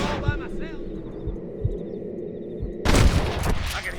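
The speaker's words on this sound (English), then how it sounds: "I can hear more gunshots." Gunfire in the Western video game Red Dead Redemption during a fight at Pike's Basin, scattered sharp shots cracking over a low rumbling backdrop, followed by a louder burst of rapid fire near the end.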